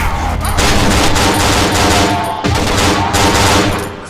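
Dense automatic gunfire rattles loudly and continuously in the Cry of Fear video game, with rapid overlapping shots and a short break partway through.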